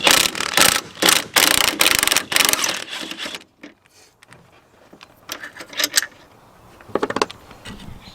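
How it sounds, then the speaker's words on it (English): A socket wrench ratchets off the last bolts of a coilover unit on a V8-swapped Volvo 960: loud, rapid clicking bursts in the first three seconds, then quieter, sparser ratchet clicks with pauses, close by and with no talking. "I have my socket ready to rock and roll."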